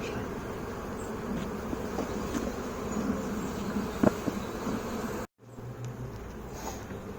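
Honey bees buzz continuously at an open hive during an inspection, a dense, steady hum close by. A brief dropout cuts the sound before the buzzing resumes.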